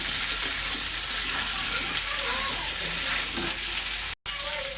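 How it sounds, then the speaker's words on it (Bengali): Raw green banana sizzling and frying with salt in a pan, a steady close hiss with occasional stirring scrapes and a brief cut near the end. "একটু ভালো করে ভাজা ভাজা করে নেব।"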